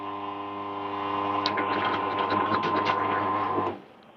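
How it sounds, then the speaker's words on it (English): DF64 Generation 2 coffee grinder running on a stainless steel tabletop, a steady close whirring hum with metallic rattling vibration through the middle, stopping abruptly near the end. "The vibration comes from my stainless steel tabletop."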